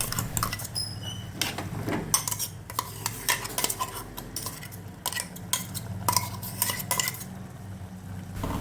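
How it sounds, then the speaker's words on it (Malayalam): Ground coconut paste poured into a pot of spinach and mango curry and stirred, with a spoon scraping and clinking against the pot in irregular bursts over a steady low kitchen hum, no talking. "നമുക്ക് അരച്ച് വെച്ചിരിക്കുന്ന അരപ്പ് ഇതിലേക്ക് ഒഴിച്ചു കൊടുക്കാം"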